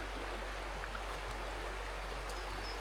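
Cottonwood Creek on a farm, rising after a flash flood warning, gives a steady broadband rush of flowing water, constant and moderately distant with no voices.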